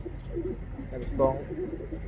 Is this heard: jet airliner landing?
no